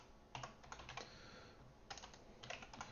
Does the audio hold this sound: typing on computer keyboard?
yes